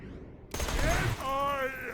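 A gun fires in Borderlands 2 with an acid cloud effect: a sharp burst, then a hissing, sizzling spread with rising electrical tones and continuous chatter behind it, moderately loud.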